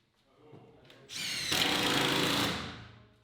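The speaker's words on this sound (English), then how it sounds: "screwing OSB to the entire inside wall" A power drill driving screws through OSB panels into an inside wall, a faint buzz rising into a loud whirring run of about a second and a half that then winds down, close by.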